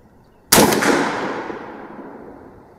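A single loud gunshot from a Bear Creek Arsenal .458 SOCOM rifle at an outdoor range, sharp crack followed by a long echoing decay, no voices.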